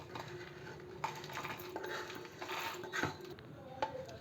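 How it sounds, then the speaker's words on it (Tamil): Roasted urad dal and dried chillies are tipped into a mixer jar with light clinks and rattles of metal utensils, a few sharper taps standing out against quiet kitchen background. "இப்போ இது மிக்ஸி ஜாருக்கு சேர்த்துக்கலாம்."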